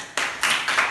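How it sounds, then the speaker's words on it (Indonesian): Schoolchildren clapping in a third-grade classroom, three short bursts of hand claps in quick succession, fairly close and brief. "kita beri tepuk tangan"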